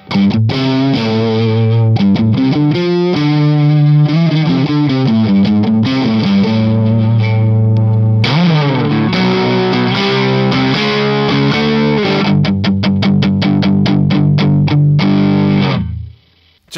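Electric guitar driven through a Thorpe Effects Field Marshall fuzz pedal gives loud, thick, distorted chords and riffs that play without a break, closing with quick choppy strums before cutting off, and no voices are heard.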